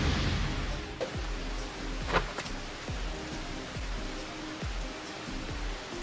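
Steady rain falling outdoors in an anime scene, a dense continuous hiss with recurring low thuds and a couple of brief sharper accents, no voices.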